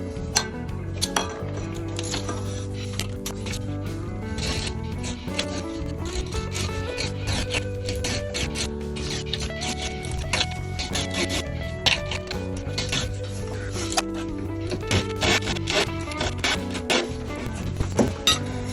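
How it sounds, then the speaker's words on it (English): A hand saw works through a wooden dowel during a bridge replacement on a 1965 Gibson J-50 acoustic guitar, giving close, rhythmic rasping strokes with small clinks mixed in and no voices. "So we're going to cut this dowel down to size."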